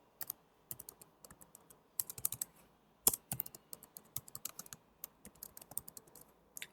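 Quick bursts of keystrokes on a computer keyboard while notes are entered during web design work, close and crisp, arriving in irregular clusters with short pauses between; no talking.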